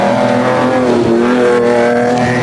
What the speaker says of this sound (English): On board with Reinecker and Houghton in the Castrol Toyota Land Cruiser